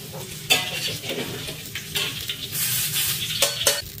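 Eggplant and tofu frying in a pan with a steady sizzle, broken by scraping and clattering knocks as the pieces are stirred and flipped with a utensil.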